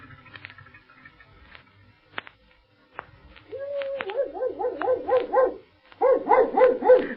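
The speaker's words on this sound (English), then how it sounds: "Oh, this is sure a swell dog of yours, Dawa." A dog named Campo, kept at a gloomy castle, lets out a rapid run of loud, close barks in two bursts, preceded by faint clicks and quiet sounds.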